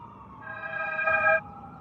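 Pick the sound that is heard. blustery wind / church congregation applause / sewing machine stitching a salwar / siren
siren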